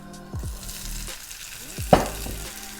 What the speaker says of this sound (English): keep it at that high heat. And we're gonna throw in our onions.